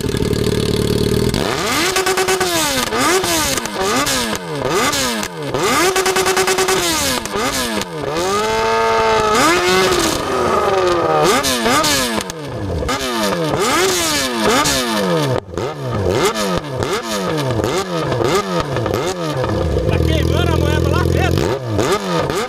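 Yamaha XJ6 motorcycle with two amoebas and a condom stuffed in the exhaust, revved hard in repeated rising and falling bursts from close range, loud and rough with clattering pops throughout.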